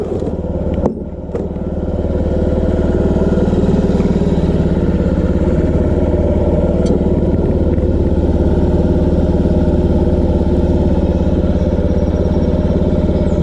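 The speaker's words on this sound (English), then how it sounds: "Gonna let the engine warm up for about 2 or 3 more minutes" A Honda Ruckus scooter engine idles while warming up. It runs as a steady, loud, close putter with a constant low rhythmic throb. A brief clatter comes right at the start, then the engine settles into an even idle.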